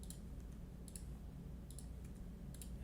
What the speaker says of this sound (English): we can just push a key on the keyboard and it'll pop up